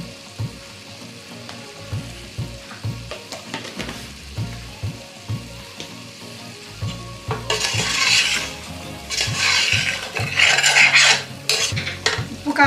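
Chicken curry with coriander powder being stirred in a pan for gongura chicken, with repeated scraping and clinking of a spoon against metal over a frying sizzle that grows louder and wetter toward the end, no speech.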